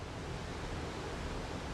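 Waterfalls at Iguazu National Park cascade into rising clouds of mist, a steady, dense, broadband roar of falling water that never lets up, heard alone and somewhat distant.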